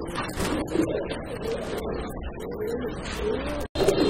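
A pigeon coos in low, throaty, repeated calls, close by and fairly loud, with faint background chatter and other birds around, like a pigeon seller's coop.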